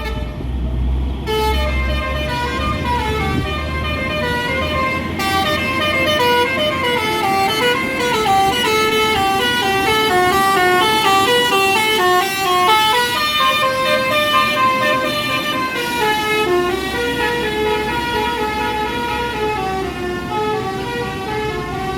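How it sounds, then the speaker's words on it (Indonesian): A Pertamina fuel truck sounds its telolet horn, a loud, close, sustained series of tuneful multi-tone honks running through the whole stretch with engine noise underneath. "Dan ini satu-satunya ya unit PO atau unit truk Pertamina yang punya telolet ini."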